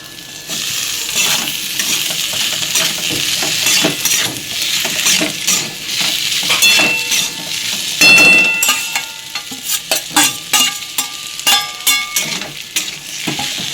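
Fried eggplant and bitter gourd go into a sizzling spice paste in a pan, with a loud, close hiss and frequent metallic clinks and scrapes of a spatula as the mixture is stirred.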